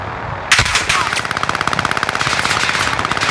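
Automatic weapon fire in Call of Duty Warzone: a loud opening shot followed by a rapid, steady burst of gunfire that runs continuously, close and dominant, with no clear speech.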